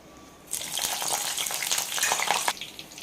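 Green chillies dropped into hot oil for a restaurant-style okra fry, bursting into a loud, steady sizzle that holds for about two seconds and then eases off.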